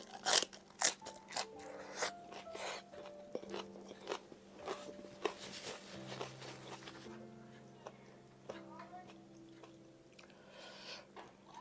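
Close crunchy chewing of Japanese bamboo shoots cooked in a pot, with repeated bites and crackles in an uneven rhythm over a steady hum.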